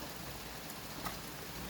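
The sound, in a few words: rain falling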